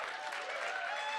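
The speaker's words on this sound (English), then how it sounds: "The answer is yeah, please do clap." An audience at a startup community awards show claps steadily, a dense, continuous wash of applause lasting the whole short moment.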